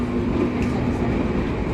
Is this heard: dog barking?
no